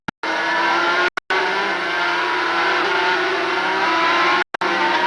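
1992 500cc Grand Prix racing motorcycles at the Brazilian Grand Prix, heading into a chicane. Their engines make a loud, sustained high-pitched howl that is cut by brief gaps and carries on continuously, with no voices.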